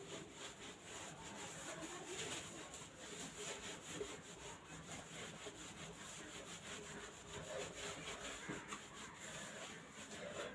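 Chalk being rubbed off a classroom board, a steady, faint, scratchy rubbing that runs continuously with no pauses and no voices.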